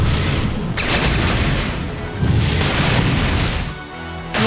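Sage's Crown, a special attack in the Exist Archive video game, unleashes loud, dense booming blasts that crash and rumble continuously for several seconds, with a few sharper hits breaking through the barrage.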